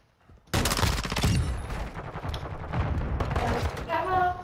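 Pistol gunfire in Call of Duty: Modern Warfare II multiplayer, a sustained burst of sharp, close shots with game effects, continuing loud from the half-second mark to the end.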